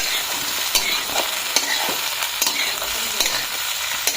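Pork sizzles steadily in an oily pan as it fries, with a continuous crackle and regular scraping strokes of a stirring utensil.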